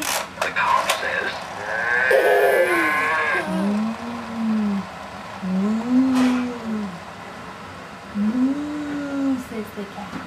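Cow mooing, three long low moos that rise and fall, each a second or two long with short gaps between them, heard over a quiet background after some brief talk.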